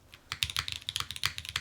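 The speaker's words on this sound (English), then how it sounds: "It's also a very soft typing experience on this too." Soft, quick typing on a Lila 60% keyboard fitted with Obscura switches, a close, rapid patter of muted keystrokes with no talking.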